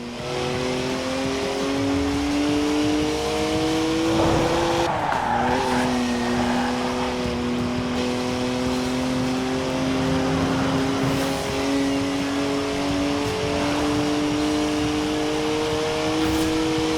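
A rear-wheel-drive BMW drifting in Forza Horizon 4, its engine holding a loud, steady high-revving drone with long tire squeals and skids, shifting pitch partway through.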